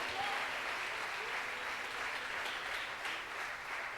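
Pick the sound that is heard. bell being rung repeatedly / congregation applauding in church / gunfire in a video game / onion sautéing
congregation applauding in church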